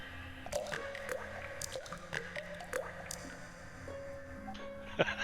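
Dungeon water drips as a sound effect: scattered, quiet plops and squishy droplets at uneven intervals over a dim ambient drone.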